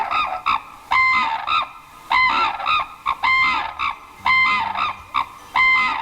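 Loud, repeated honking calls in quick bursts, several red-crowned cranes trading harsh trumpeting notes between male and female, close by with short pauses between phrases, in Kushiro, Japan.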